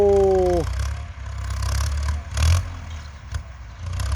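A Ford 6600 tractor ploughing a grassy field, its engine rumbling low and steady with a brief falling whine at the start, plus clattering and scraping bursts from the work.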